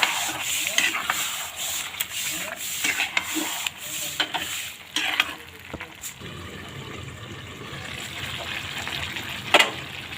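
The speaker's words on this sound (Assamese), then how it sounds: "জলকীয়া কেইটা দি দিলোঁ, চিকেন মছলা, দৈ, এইখিনি দি ভালদৰে মাংসখিনি অলপ ভাজিম" Local chicken pieces fry in a pan with chillies, chicken masala and yogurt, giving a soft sizzle under repeated scraping stirs and wet rubbing sounds. The close, moderate stirring comes in rhythmic strokes for about ten seconds.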